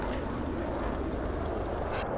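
A Warhawk aircraft engine in a flight sim game, droning continuously with dense broadband roar and low throb, cutting off abruptly at the end.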